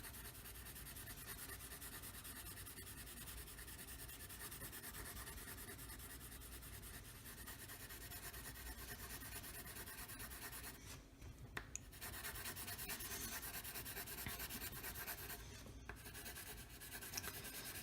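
Graphite pencil shading on paper, a steady continuous scratchy rubbing that runs unbroken throughout, close and fairly quiet, with brief pauses in the strokes and no talking.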